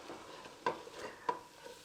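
Flour browning for gravy is scraped steadily across the bottom of a pan, with faint sizzling and a couple of sharper scraping strokes standing out over the quiet background.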